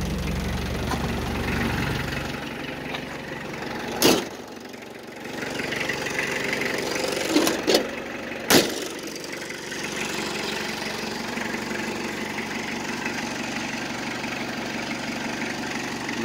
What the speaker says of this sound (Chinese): 不过发动引擎声音还 OK